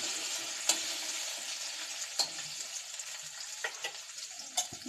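Food frying in a pan is stirred, giving a steady sizzle with a few sharp scraping clicks of the spoon spread through the clip, fairly close and with no talking.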